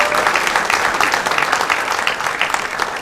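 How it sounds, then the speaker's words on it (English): Steady applause from an audience at a Western Cape sports awards ceremony, dense overlapping clapping that fills the hall at an even level throughout. "Let's give them a round of applause."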